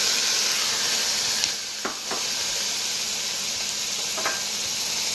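Curry vegetables (onions, peppers and tomatoes) sizzle and steam in an oiled pan, a steady broadband hiss with a few brief stirring clicks, fairly close and constant throughout.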